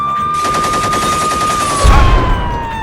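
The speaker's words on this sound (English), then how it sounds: "somebody shoot the tires!" Video-game gunfire aimed at a car's tires: a rapid, steady burst of automatic shots running for about two seconds, loud and close, ending in a heavier thump.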